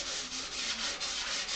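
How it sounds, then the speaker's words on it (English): A cedar bench is sanded with 220 grit sandpaper, giving a loud, close, continuous scratchy rubbing in rhythmic back-and-forth strokes. "I am continuing to sand on this bench. It's got some 220 grit sandpaper."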